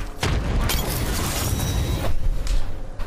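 Frag grenade detonation in Apex Legends during a late-game firefight, a loud booming blast with rumbling debris and scattered gunfire-like pops running continuously for about three seconds.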